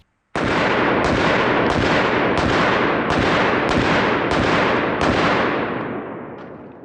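Eight rapid gunshots from a 1911 pistol emptying its magazine, each sharp crack booming loud and close in an even rhythm, the reverberation lingering and fading after the last round.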